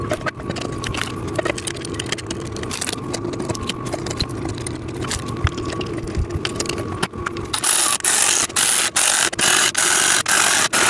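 Bolts being screwed in by hand while a VEVOR sissy squat machine is assembled, heard as steady close metallic ratcheting and clicking that gets brighter and louder toward the end, with no speech.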